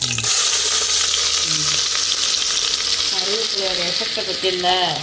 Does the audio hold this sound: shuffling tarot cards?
no